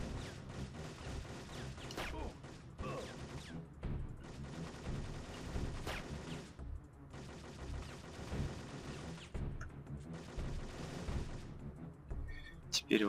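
Gunfire in the PS1 shooter Syphon Filter 3, with dense bursts of shots and blasts layered over game noise, continuous and busy, with a voice talking over it at times.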